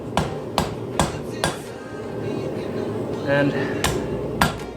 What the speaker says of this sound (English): letting the weight of the hammerhead fall on top of this thing